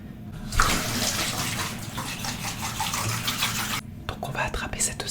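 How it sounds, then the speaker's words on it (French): Running water from a tap splashes steadily and close by as skin care products are rinsed off during an ASMR routine, with brief quieter handling sounds near the end. "Maintenant, on va rincer tout ça"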